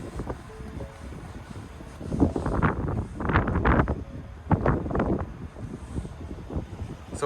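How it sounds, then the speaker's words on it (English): Gusty wind blows outdoors beside a 2026 Ford F-150 XLT with a 5.0 V8, rumbling steadily into the microphone with stronger buffeting bursts in the middle of the stretch, no voices present. "and then I can get out of this wind."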